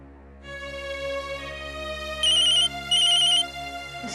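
An electronic telephone ringtone sounds for an incoming call, a steady harmonic tone with two brighter, louder bursts of ringing near the middle, heard alone without speech.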